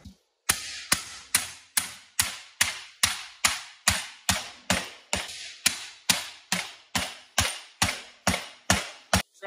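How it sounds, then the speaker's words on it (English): A hammer strikes sheet metal clamped in a vise over a block, about eighteen loud ringing blows in an even, steady rhythm, each with a short metallic decay, close and alone. "I've got this block under there so I don't hammer it out of the vise."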